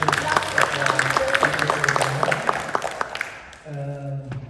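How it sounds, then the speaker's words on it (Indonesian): Church congregation clapping in a brief burst for about three seconds, moderately loud amid voices and an organ-like sustained tone, then fading as a musical chord takes over. "Kita beri tepuk tangan sekali lagi"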